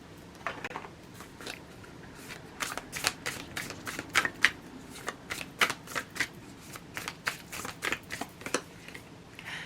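Tarot cards are shuffled close up during a pick-a-card reading, giving a continuous run of soft, rapid slaps and riffles at an uneven rhythm with no talking.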